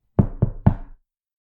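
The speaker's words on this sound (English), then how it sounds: "there was a knock at the door." Three distinct knocks on a wooden door ring out close and clear, evenly spaced in quick succession, followed by silence.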